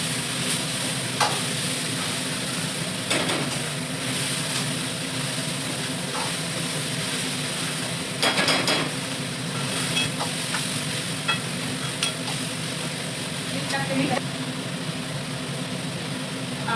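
Tomatoes and capsicum stir-fry in a home kitchen pan, a constant dense sizzle close by, broken by occasional scrapes and clinks of a stirring spoon over the steady frying hiss.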